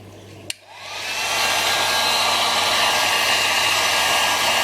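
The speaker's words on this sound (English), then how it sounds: "Now we'll use our hot air dryer to dry the wheels." A hot air dryer starts with a click and then blows a steady, loud rushing stream of air while drying the wheels of a Japanese 40-day wall clock during servicing.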